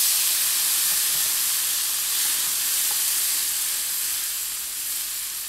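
Shrimp sizzling in butter and garlic in a large frying pan (kawali), a steady broad hiss and crackle that stays loud and continuous throughout, fading slightly toward the end, with no voices.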